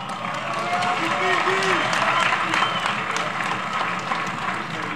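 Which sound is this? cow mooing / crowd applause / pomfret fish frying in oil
crowd applause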